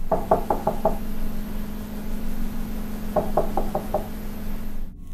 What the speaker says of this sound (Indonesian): suara ketukan pintu kamar